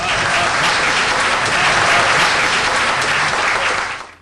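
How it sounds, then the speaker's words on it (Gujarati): An audience at an anchored stage programme bursts into loud, dense applause that holds steady for about four seconds before tapering off at the end, with no talking over it. "ખૂબ તાળીઓ આપો આ પળ માટે."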